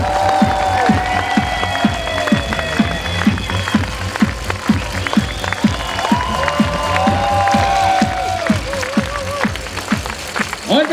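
A large outdoor crowd on a town market square at a championship celebration claps and cheers in a sustained roar. A rhythmic pounding runs steadily underneath and voices carry over the top.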